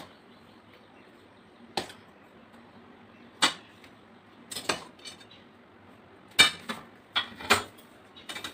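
Sharp metallic clinks and scrapes from a utensil working raw mango pulp onto a metal plate in a home kitchen, irregular isolated hits spaced a second or so apart, close and fairly loud against a quiet room.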